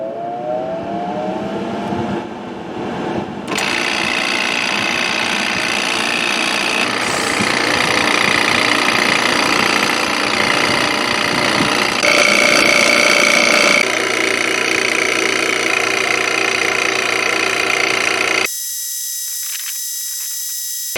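Refrigerant being recovered from the AC system of a 2012 Hyundai Elantra: a loud, steady machine drone and hiss with shifting tones and a rising whine, running continuously for about eighteen seconds before changing to a thinner high hum.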